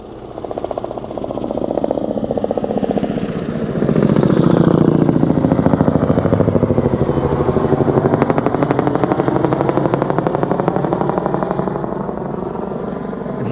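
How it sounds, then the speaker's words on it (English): A firefighting helicopter passes directly overhead at a wildfire. Its loud, rapid rotor chop swells as it approaches, holds for a long stretch, then slowly fades, with no voices. "Here comes helicopter right overhead."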